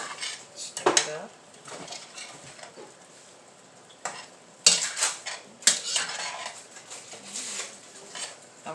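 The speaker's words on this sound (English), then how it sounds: "And I keep it stirred up." Utensil stirring food in a pot, with a few scraping clinks against the metal and a quiet background sizzle. Brief sharper clatters come near the start and again around the middle, and no talk is heard.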